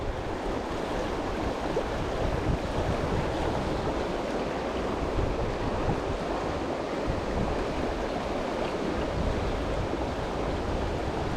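Wind blowing steadily along a river during euro nymphing fly fishing, a constant broad rushing wash mixed with flowing water, moderately loud and unbroken with no voices.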